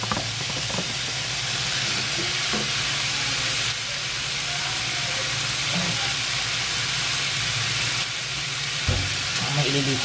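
Hotdog and mushroom slices frying in a pan for Filipino-style fiesta spaghetti, a steady loud sizzle with intermittent stirring scrapes and clinks throughout, no voices.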